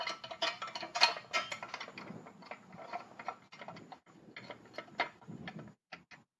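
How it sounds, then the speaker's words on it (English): An Allen wrench tightens the sump guard screws on a Royal Enfield Interceptor 650, producing quiet, close ticking clicks in quick irregular runs with short pauses, fairly faint and without speech. "You just use an Allen wrench to tighten them up."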